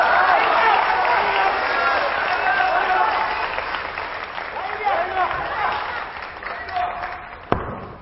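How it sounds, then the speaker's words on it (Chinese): A live audience at a Chinese crosstalk storytelling performance claps and cheers in a dense, sustained wash of crowd noise with voices mixed in, fading slightly before a sharp knock near the end. "谦谦儿，你们就坐底下起哄啊，是不是这个起哄比听书还快乐呢？"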